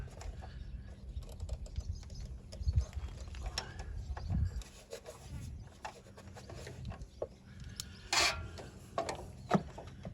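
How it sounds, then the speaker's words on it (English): Metal wrench fitted onto a bolt on a Gravely ZT HD 52-inch zero-turn mower in a tight space, with scattered close clicks, taps and scraping clinks of tool against metal. "got a wrench. Let's see if this will fit on here"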